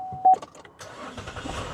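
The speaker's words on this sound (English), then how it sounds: "The engine started up." A 3.6-liter V6 car engine cranks on a jump starter after a completely dead battery, giving a short whirring crank and then catching into a steady, moderately loud idle up close.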